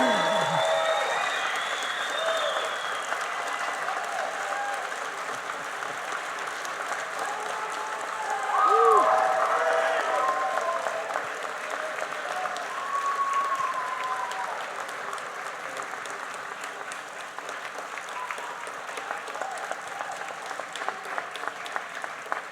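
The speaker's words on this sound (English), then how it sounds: "Ladies and gentlemen, please rise and give them applause." An audience at a naturalization ceremony gives sustained applause, a broad wash of clapping that swells midway with a few cheers and voices, then gradually thins.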